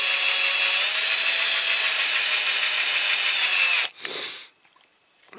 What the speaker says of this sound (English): I've got quite a big drill bit here